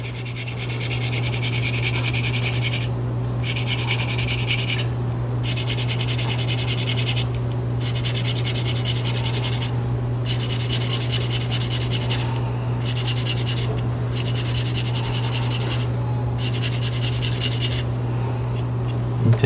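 Steady rubbing and scraping as abrasive sanding works a metal necklace bezel, close and loud in repeated strokes with short pauses, over a constant low motor hum.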